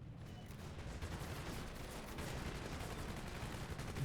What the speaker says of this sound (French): Maintenant on va s'amuser un peu à la mitrailleuse.